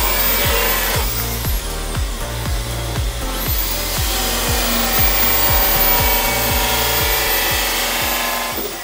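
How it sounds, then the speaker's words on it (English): A trusty little Makita belt sander trims a wooden bulkhead during a Contessa 32 boat refit, a loud steady grinding whir with rhythmic rubbing strokes pulsing about once a second, close up and with no talking. "give it just a bit of a trim and a finesse with my little belt sander, the trusty Makita"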